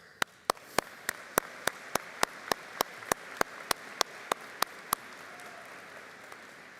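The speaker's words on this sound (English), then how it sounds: "we give a round of applause to everybody who helped us on this journey" Commencement ceremony audience at a spring graduation, heard as a steady run of about fifteen evenly spaced sharp claps over a soft crowd wash, stopping after a few seconds and leaving low murmur.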